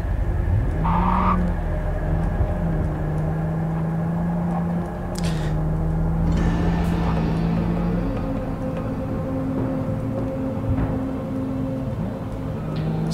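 A car driving in Cyberpunk 2077 with a sound-dampened cabin, a steady muffled engine drone that holds close and even throughout, with occasional faint game effects and no talk.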